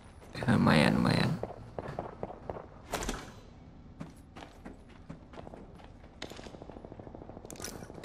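Rapid bursts of Apex Legends gunfire crackle over a busy soundscape, with a loud blast early on and clusters of short shots spread throughout.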